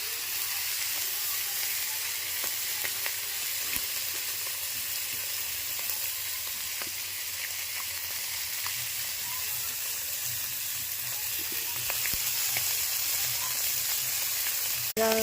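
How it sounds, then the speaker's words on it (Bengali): Fish frying in hot oil until reddish-brown, a steady hissing sizzle that runs continuously, with a few faint clicks and a louder bump near the end. "তেল দিয়ে দিচ্ছি, একটু ভালো করে লাল করে ভেজে নিতে হবে।"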